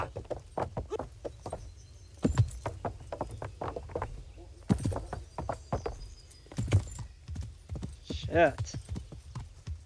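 Video game horse hooves from Kingdom Come: Deliverance clip-clop in an uneven trot beneath someone talking and swearing, the steps fairly soft and continuous throughout.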